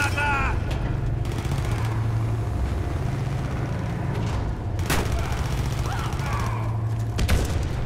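Continuous gunfire and a sharp blast, heard as a grenade explosion midway, from the video game Warface in a domination match, loud and busy with engine-like rumble and game voice announcements over it.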